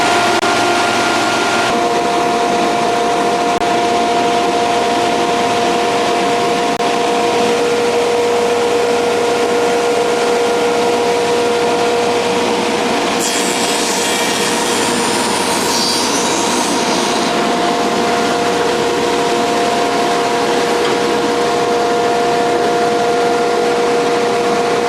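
Castaly five-piece automatic raised panel door shaper running steadily, a sustained machine drone with steady tonal whine throughout, a brief higher hiss partway through as the workpiece feeds; no speech.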